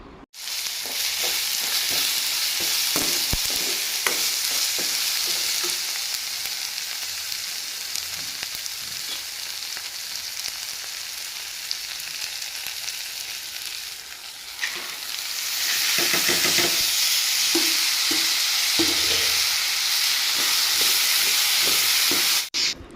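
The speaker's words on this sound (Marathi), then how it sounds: "बघा आता छान कांदा हे तळून घेतला" Onion fries in a pan with a loud, continuous sizzle and hiss, interrupted by stirring scrapes, then surges louder again near the end, with no voices.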